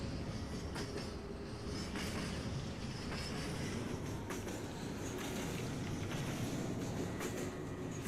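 A model train rolls along track in the VR game Rolling Line, a continuous rumbling run with rhythmic clickety-clack wheel beats over the rails, fairly quiet and unbroken throughout.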